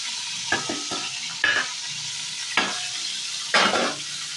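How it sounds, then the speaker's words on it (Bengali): Cauliflower florets frying in hot mustard oil in a kadai, a steady close sizzle broken by several louder scraping stirs of a spatula against the pan. "ভালো করে আমি ভেজে নেব"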